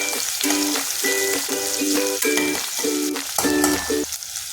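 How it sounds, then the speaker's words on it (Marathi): Finely chopped onion fries in hot oil for soya khichdi, giving a steady close sizzle with stirring over a tonal musical backing, and no one speaks. "कांद्यालाही चांगल्या प्रकारे मी तेलामध्ये परतून घेणार आहे."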